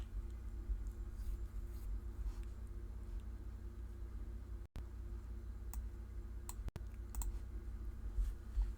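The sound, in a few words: computer mouse clicks in web browser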